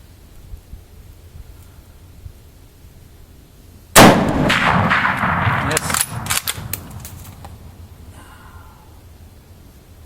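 A Mosin-Nagant rifle fitted with Smith sights fires a single loud, sharp shot outdoors, followed by several seconds of rumbling echo and rustling.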